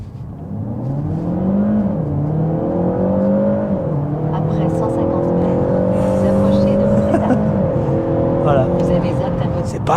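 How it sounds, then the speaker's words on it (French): Peugeot 508 PSE accelerating at full throttle, a loud, close engine whine climbing through gear changes with dips between each rising sweep, heard from inside the car with a voice faintly over it. "Accélère à fond."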